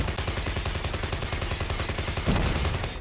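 Sustained fully automatic M4 rifle fire in Call of Duty Mobile, a steady rapid stream of close, loud shots running unbroken for about three seconds with no talking.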